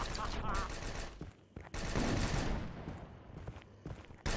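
Dual-wielded guns firing in the Frens vs Frens video game, a dense, loud burst of rapid shots for a couple of seconds, then resuming after a brief gap, with excited voices talking over it.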